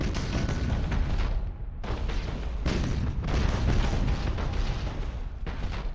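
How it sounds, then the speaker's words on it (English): Spaceship weapon batteries in the Battlefleet Gothic Armada game open fire all at once, a continuous barrage of loud, booming blasts that rumble in rapid overlapping waves with brief gaps. "Open fire all weapons."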